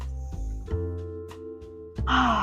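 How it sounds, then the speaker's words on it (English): A yoga instructor takes a big deep breath during a full-body flow, a soft sighing inhale and exhale rising near the end over a steady low musical drone. "Take a big breath."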